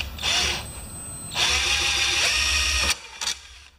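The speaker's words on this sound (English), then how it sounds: "drilling from the other side" Drill boring holes through an engine mount on a John Deere JS25 mower during an engine swap: two sustained bursts of whining, buzzing drilling, close and loud, then a brief quieter spurt after a pause.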